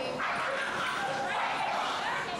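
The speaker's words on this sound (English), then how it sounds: "test puppy snarling" A puppy snarls and yips during a shelter behaviour test, giving a steady, close, fairly loud stretch of growly vocalising that runs without a break through the whole moment.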